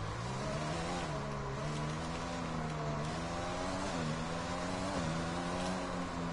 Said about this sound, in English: The engine noises are brilliant,